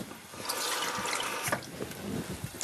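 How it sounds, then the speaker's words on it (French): Water poured into a covered pan of pork in a home kitchen, a steady splashing and sizzling rush that runs for a couple of seconds, close and fairly loud. "Et puis je vais rajouter un petit peu d'eau."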